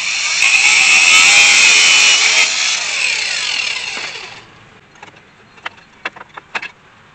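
A loud, steady high-pitched power-tool whine cuts through an old line on a 1980 Dodge D150, then stops and is followed by a few sharp metallic clicks and knocks.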